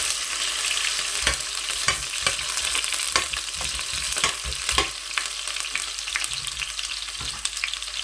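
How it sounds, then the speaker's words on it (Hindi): Chopped onions frying in hot oil for keema rice, a dense, loud sizzle running continuously with sharp crackles and spatters scattered through it, no voices. "अब मैं इसमें प्याज जो है वो ऐड कर दूंगा"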